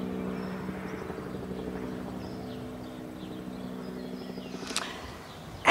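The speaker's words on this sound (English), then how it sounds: "That's his chopper leaving." A helicopter departs in the distance, a steady low rotor drone that stays faint and fades gradually, heard alone over outdoor ambience.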